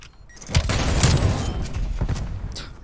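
Loud video game gunfire with dense overlapping shots and booming impacts, packed continuously throughout, with a few sharper cracks standing out from the roar.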